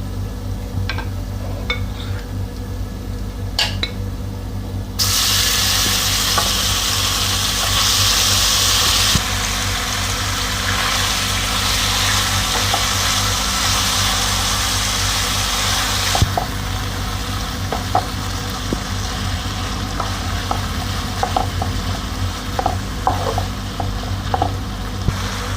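Chicken and chopped garlic fry in a pan with a continuous, loud sizzle over a low rumbling background, swelling noticeably for a stretch midway, with scattered faint clicks and stirring scrapes.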